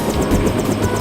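Helicopter in the Deus Ex video game, a loud, close rotor thump beating in a fast regular rhythm over a deep engine drone.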